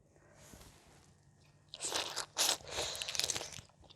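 Boiled crab shells crunching and cracking as they are eaten, quiet at first, then a few loud close bursts of biting and crackling.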